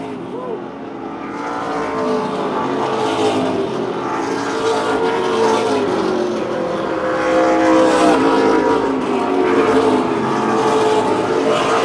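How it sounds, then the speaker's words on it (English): Race cars roaring past on a track during the Boss Hogg 150, a loud sustained engine drone rising and falling as the cars go by, with crowd ambience beneath. "Garrett Hall in the 94 car runs in 10th"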